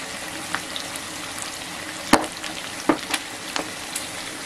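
Tigania, Greek pan-fried meat, sizzling steadily in a pan, a close crackling hiss broken by a few sharper pops and spatters, with no voices.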